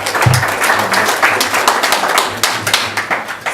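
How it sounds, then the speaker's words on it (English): An audience claps at the start of a talk on dealing with diagnosis, giving a close, even round of hand claps that runs steadily throughout without any speech. "It's nice to get a clap at the start."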